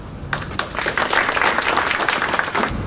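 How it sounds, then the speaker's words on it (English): An audience at a public service roadshow in Sydney bursts into applause to welcome a speaker, clapping starting abruptly after a brief quiet moment and continuing in a full, steady patter. "So if you give a warm round of applause to Mary Wiley-Smith."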